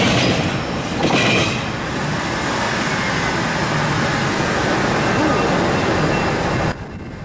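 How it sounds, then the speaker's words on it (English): A Norfolk Southern freight train getting underway at a rail junction, heard as a loud, steady rumble of wagons rolling close by with clickety-clack and faint wheel squeal, ending abruptly. "After the intermodal train cleared the junction, the Norfolk Southern freight train then got underway"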